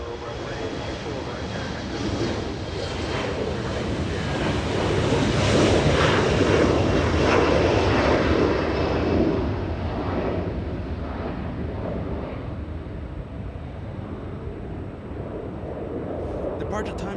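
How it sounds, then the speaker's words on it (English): An Embraer jet taxis close by at Los Angeles International Airport, its broad engine roar swelling to a peak midway and then easing off to a steady hum. A voice talks over the engine noise. "We do have an Embraer getting a move on right next to us."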